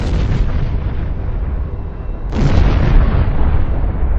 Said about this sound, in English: Upon impact, the warhead detonates, delivering its payload, which can result in significant damage to the target.